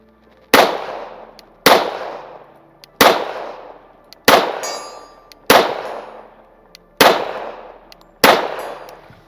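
Seven loud pistol shots from a Springfield 1911 fired at a target about 50 yards away, spaced evenly a little over a second apart, each a sharp crack with a ringing decay.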